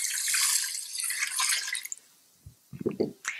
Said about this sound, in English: I'm going to add 1 1/4 cup of water just right on top